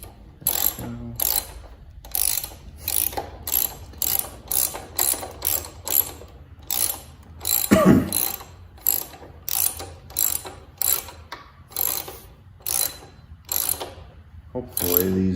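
A ratchet clicks in rapid repeated bursts while tightening bolts on the steering of a 1969 John Deere 112 garden tractor, close and crisp, with a brief clunk midway.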